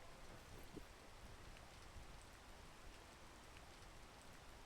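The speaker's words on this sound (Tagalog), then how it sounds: "Wow, umuulan. Ingat, baka madulas." Dense, steady rain pours evenly in the PEAK video game, a continuous broadband hiss with soft drop patter and no other sounds.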